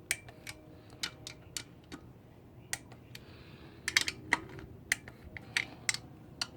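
Torque wrench clicking as it reaches its set torque on GY6 CVT cover bolts of a 180cc scooter power kit, a series of sharp, close, fairly faint clicks at irregular intervals, some in quick pairs, over a quiet background.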